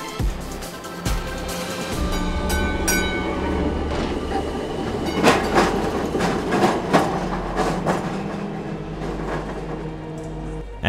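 Passenger train in BeamNG Drive slowly rolling out of a station, rumbling low with rhythmic wheel clicks over rail joints and occasional sharper clacks, steady and close.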